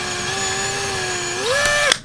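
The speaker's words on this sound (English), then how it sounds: "So I take my drill and gently drill a hole right there." An electric drill whines steadily at close range while boring a hole in the faceplate of a DXG 567v camera. Its pitch climbs briefly near the end before the drill cuts off with a sharp click.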